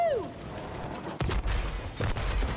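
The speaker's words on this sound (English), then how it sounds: "They've got cannons too!" Cannon fire in It Takes Two booms in a few heavy blasts after a short whistling tone, loud and close with rumbling echoes.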